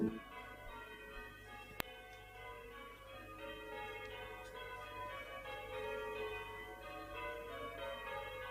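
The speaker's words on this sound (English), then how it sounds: "The church bells have started ringing." Church bells ring out around 11 o'clock in an English town setting of 1971 period drama, a steady layered peal with sustained overlapping tones at moderate distance, with no voices.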